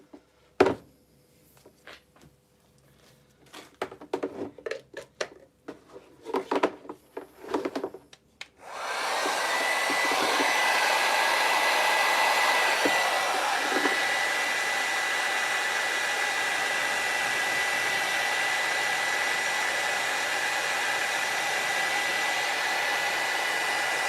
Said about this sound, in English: Bought a proper heat gun as well,